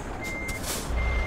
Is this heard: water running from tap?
no